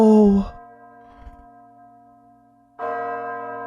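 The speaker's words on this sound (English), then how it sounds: "Oh, the church bells." Church bells toll in an anime episode, one loud resonant strike at the start and another near the end, each leaving a long humming decay, with a brief murmur of voices in between.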